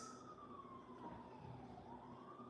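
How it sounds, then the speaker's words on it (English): Emergency vehicle siren wailing outside on a city street, a steady falling-and-rising tone with traffic rumble underneath, moderately loud and continuous with no talk. "Sirens run all day."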